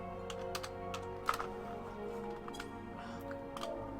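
Scattered clicks of typing on a computer keyboard, soft and irregular, over a low steady background hum.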